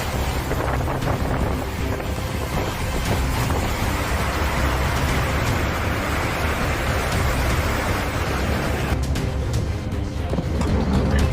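Heavy rain pours during a severe thunderstorm in Little Rock, a loud, unbroken roar of water mixed with wind buffeting the microphone, steady throughout with no pauses.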